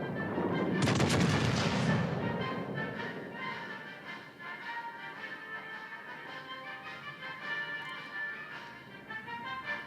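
Naval ship guns firing shells in the video game World of Warships: Legends, a loud booming salvo up front followed by a long rolling, ringing decay under steady engine-like game ambience.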